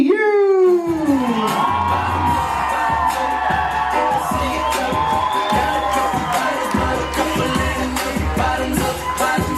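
Wedding guests cheer, whoop and shout for the bride and groom at a reception, a loud, dense crowd roar with rising voices and scattered bangs that holds steady throughout, with no clear talk over it.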